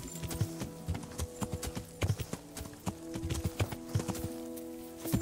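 A horse's hooves clip-clop at a steady walking pace in the video game Kingdom Come: Deliverance, close and distinct, with some tack jingle and faint background ambience.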